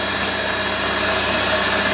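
A Warco lathe drills a hole in a home workshop, giving a loud, steady, unbroken mechanical whir with no pauses and no voices.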